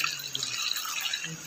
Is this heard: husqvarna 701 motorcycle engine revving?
no